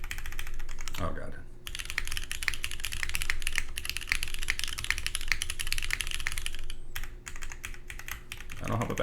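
Close, continuous typing on a Bowl Keyboards OC-62 mechanical keyboard with KKB keycaps, rapid clicky keystrokes broken by a couple of short pauses, with a faint voice in the background.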